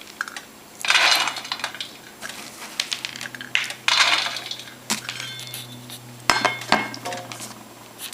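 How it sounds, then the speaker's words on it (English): Dry soybeans poured into a wok, a rattling rush of small hard beans striking metal in two main bursts with scattered clinks between, fairly close and with no talk. "put some beans into here"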